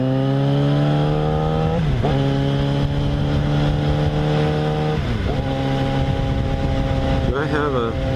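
A Yamaha FZ6R sport motorcycle engine under way, loud and close, holding a steady drone that drops briefly at each gear change before settling again, with wind rush throughout.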